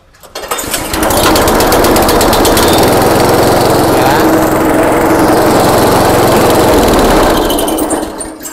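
A chopper machine engine, being fixed after failing to start, catches and runs steadily at a loud, buzzing idle close by. It holds that drone for about seven seconds and then begins to fade out.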